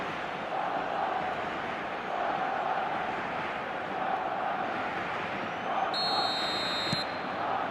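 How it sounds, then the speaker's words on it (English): Crowd noise from a stadium in the eFootball 2025 video game swells after a goal, a broad, steady roar of clapping and cheering fans that holds at even loudness, with a brief electronic tone near the end. "Even some of the opposing fans are clapping that."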